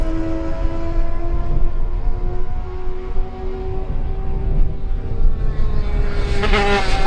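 A Kawasaki racing motorcycle in a lightweight race roars past at high revs, a loud sustained engine whine sliding slightly in pitch with a fresh burst near the end, no talk.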